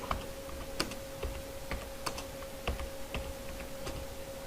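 Clicky keystrokes on a computer keyboard while entering text in an Excel spreadsheet, an irregular close-up run of taps over a faint steady hum.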